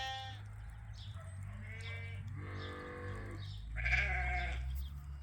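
Sheep on a sheep farm bleat repeatedly at close range, several drawn-out overlapping calls in a row over a low steady background hum.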